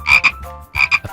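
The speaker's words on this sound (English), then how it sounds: "a green frog" Two pairs of sharp frog croaks, bright and close, form a quick double-croak rhythm with a short pause between, heard alone as a cartoon-style sound effect.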